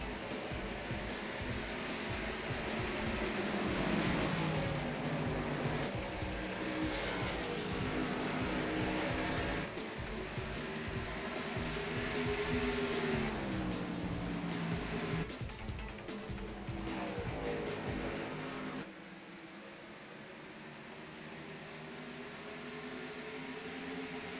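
Race cars roaring around the oval at Iowa in a league driver development series race, a dense loud continuous engine drone with rising and falling pitch sweeps as the field passes, cutting to a quieter hum near the end.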